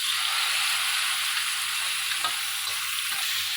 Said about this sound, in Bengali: এই চিকেনটাকে একটু ভালোভাবে হালকাভাবে একটু ভেজে নেবো